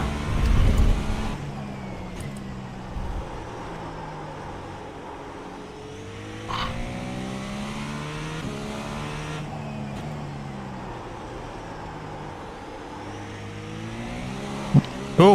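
LMP3 prototype race car engine lapping Indianapolis in a racing video game, a steady droning engine note with rising and falling gear-change sweeps throughout, fairly loud and continuous with no talk.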